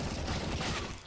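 Rapid gunfire from a CS:GO match fills the moment, a dense, continuous burst of shots with no pauses, loud and close throughout.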